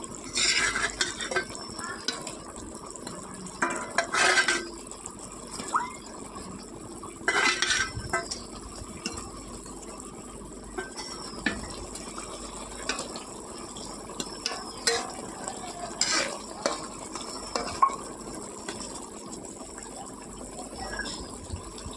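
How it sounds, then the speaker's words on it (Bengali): Pieces of fried rui fish are added to a pan of curry and stirred, bringing soft scrapes and metallic clinks of a utensil against the pan, irregular and fairly quiet over a low background hiss. "এবার ভেজে রাখা মাছগুলো আমি দিয়ে নেব।"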